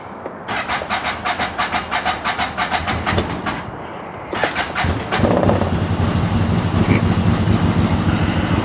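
A CFMOTO UForce 1000 side-by-side fitted with a swapped Z950 ECU cranks in rapid rhythmic pulses, pauses, then catches and settles into a loud, steady running engine close by.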